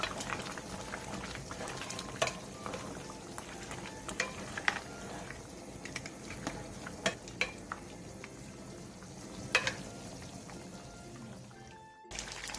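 A jujube and garlic braise simmering over low heat, a quiet steady bubbling with scattered small pops and ticks, fairly faint and without speech.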